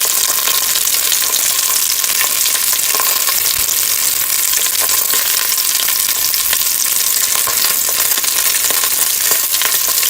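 Fat sizzling and browning in a pan while making candy: a loud, steady, dense hiss of frying crackle throughout, close up, with faint occasional stirring.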